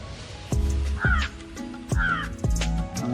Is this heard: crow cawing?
yes